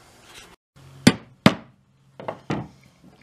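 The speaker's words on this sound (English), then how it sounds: "and punch them in with the awl." An awl punches holes into a metal cigar box guitar tailpiece cover, giving a few sharp, close tapping knocks in irregular succession over a quiet background.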